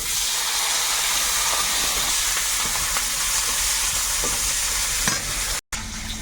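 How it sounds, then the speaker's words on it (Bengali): Chopped onions frying in oil in a wok, a steady close sizzle with stirring scrapes running throughout, cut by a brief silent gap near the end. "কড়াইতে আর একটুখানি তেল দিয়েছি এবার দেবো পেঁয়াজ কুচি"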